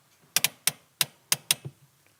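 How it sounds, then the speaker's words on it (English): A car's parking brake lever is pulled up on its ratchet, giving about six sharp, close clicks in quick irregular succession, quiet and alone. "Then I'd release the parking brake, and without holding the button in, I'd pull it up on the ratchet."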